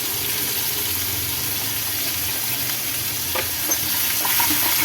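Spices stirred into a potato dish frying in a pan with turmeric, a continuous close hiss of sizzling oil with a few soft scrapes and taps of a spoon toward the end.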